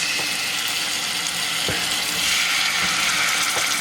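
Steady, loud sizzling of chicken thighs browning in a hot frying pan, a continuous crackling hiss with a few sharper pops.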